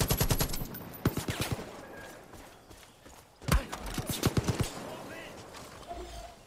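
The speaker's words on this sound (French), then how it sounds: "Il y a un gars qui tire avec une grosse mitrailleuse" Heavy machine gun fire in the video game Far Cry 5 comes as loud, rapid bursts of shots, with short volleys at the start, midway and near the end, mixed with other game sounds.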